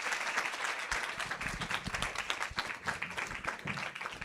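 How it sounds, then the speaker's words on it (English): An audience at a university family orientation at UWI Mona claps for several seconds, with dense, steady applause and scattered sharper individual claps standing out near and loud. "Give us a round of applause."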